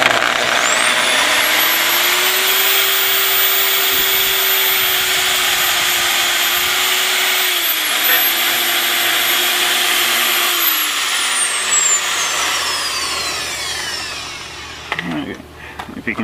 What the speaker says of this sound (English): I'm going to use the grinder with a cup brush to clean the threads up